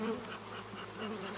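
Honey bees buzz steadily around an open horizontal hive, a dense close hum with slight swells and dips throughout, no voices.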